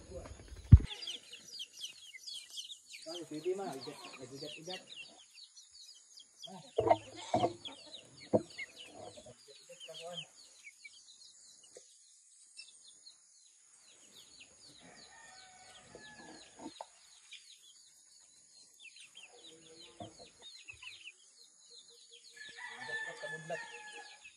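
Chickens cluck and a rooster crows around a backyard chicken coop, with sporadic nearby clucks and calls, some louder squawks early on and a steady high insect-like hiss running underneath.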